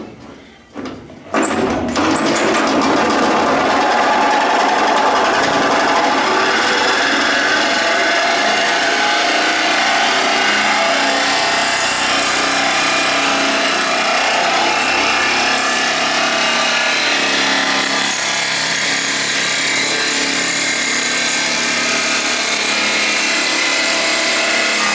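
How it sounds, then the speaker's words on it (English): A grinder cuts into the wheel arch of a classic Mini, a loud, close, continuous harsh whine that begins with a brief startup and then grinds on steadily for the whole stretch. "should we take the grinder to it?"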